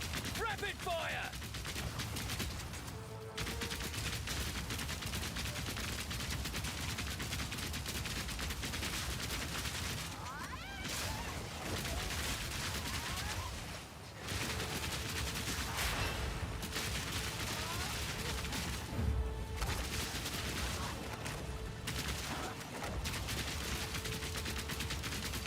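Dense rapid-fire gunfire in a hardcore video game run with grenades, continuous loud crackling bursts with brief pauses, under occasional talk.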